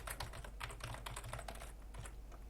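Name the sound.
typing text on a computer keyboard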